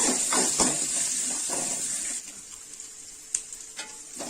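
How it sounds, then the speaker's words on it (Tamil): Chopped onions frying in a pan for a quick sambar made with gram flour, giving a loud bright sizzle with stirring scrapes that drops to a quieter hiss midway, followed by a few sharp clicks and no speech. "வெங்காயம் நல்லா வதங்கட்டோங்க."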